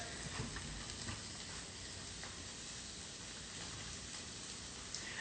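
Pancetta frying slowly in a pan over low heat gives a soft, continuous crackling sizzle, quiet and even throughout with scattered small pops.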